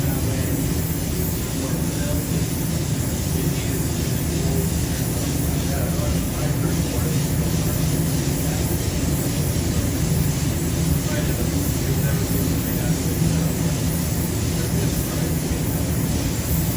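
An air-blowing tool melts overspray on a painting, making a constant, fairly loud rushing roar while a person talks over it.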